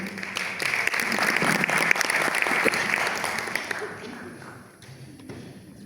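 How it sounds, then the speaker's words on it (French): An audience at an international theatre symposium applauds steadily for several seconds, a dense patter of many hands that gradually thins and fades out. "On l'applaudit s'il vous plaît."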